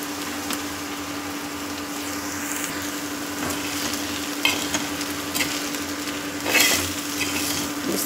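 Ambadi leaf vegetable is sautéed on a low flame, a steady soft sizzle and frying hiss with occasional spoon scrapes and stirring clinks against the pan, under a constant low electrical hum.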